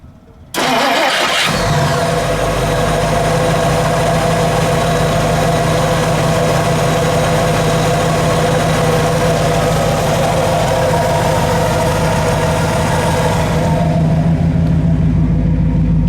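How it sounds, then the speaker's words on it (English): A 1957 Studebaker Golden Hawk's V8 engine cranks and catches with a loud roar, then settles into a steady, deep idle that runs close by to the end. "Peter, why don't we have you fire this up?"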